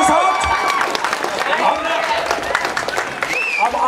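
An audience at a movie motion poster launch claps in bursts, a crowd applauding with scattered whoops and voices, fairly close and loud, with speech mixed in.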